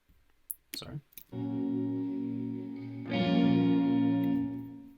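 Acoustic guitar run through chorus and reverb effects, a few clicky plucks and then sustained shimmering chords that swell louder midway, close and alone without talking.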